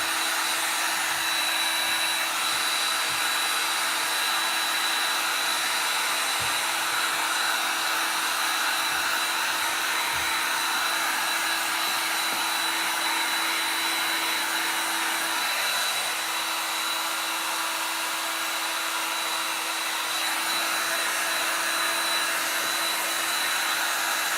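A hair dryer drying a paint inlay blows a steady, loud whine that runs continuously and alone for nearly half a minute, with a few faint knocks underneath.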